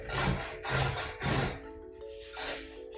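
Cabbage grated for sauerkraut on a cutting board gives rhythmic, rasping strokes, about five back-and-forth passes, close and fairly quiet with brief pauses between them.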